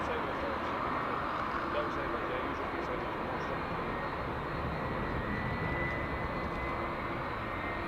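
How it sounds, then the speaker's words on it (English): A 27-year-old Delta Boeing 767 departs Dublin Airport, its engines a steady, broad roar held evenly at moderate distance, with a voice talking over it. "Delta is off to Minneapolis, Boeing 767, and it's 27 years old."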